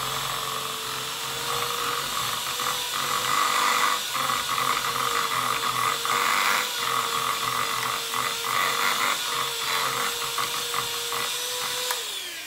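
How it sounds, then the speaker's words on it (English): A strong electric mixer whirs continuously as flour is worked into chocolate chunk cookie dough, a steady high motor whine with a scraping, churning texture, close by and with no voices. "try not to make a mess because this mixer's pretty strong"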